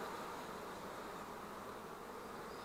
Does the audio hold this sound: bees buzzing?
yes